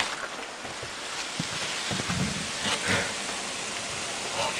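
Steady hiss of video game rainfall fills the whole stretch, even and fairly faint, with a few soft low thumps underneath and no voices.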